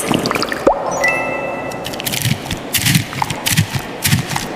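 Sticky glaze on miniature Panda Express orange chicken squishes and crackles up close, with a series of soft wet taps and small crisp snaps in a quiet setting.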